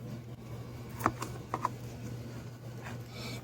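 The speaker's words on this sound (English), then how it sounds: "So basically, I'm going to cut the ends off." A knife trims the ends off a vegetable, giving a few quiet, separate taps against a cutting surface, two of them in quick succession, over a low steady background hum.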